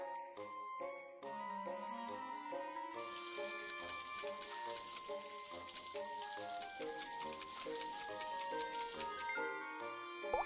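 Water streams steadily for several seconds to rinse a scalded arm in a BabyBus cartoon game, a bright hiss under cheerful tonal game music.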